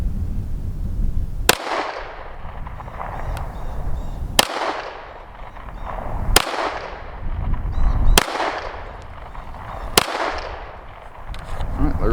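Five sharp shots from a Walther PDP .45 pistol fired outdoors in freezing cold, spaced about two seconds apart, each a loud crack followed by a long rolling echo.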